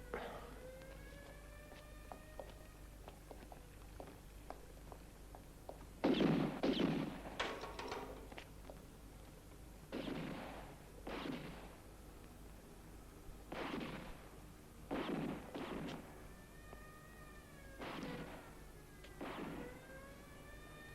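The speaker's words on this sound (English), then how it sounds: "They're firing a lot of bullets into each other" Gunfire exchanged in a 1970s Italian crime film: bursts of shots cluster around the middle and repeat in separated volleys over steady background noise, with siren-like tonal wails drifting in and out.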